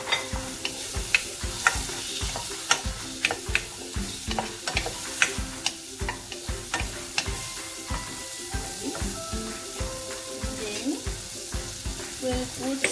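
Homemade olive chili oil heating in a pan, a steady crackling sizzle with sharp spits and pops and some utensil clicks over thirteen seconds, close and fairly loud.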